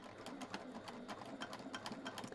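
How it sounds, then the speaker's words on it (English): A sewing machine stitches a 1 cm seam with a 2.5 stitch length on fabric for a handmade zipper pouch, running in quick, even bursts of rapid needle clatter, close and moderately loud. "we're sewing it 1 centimetre from the edge, or 3/8 of an inch"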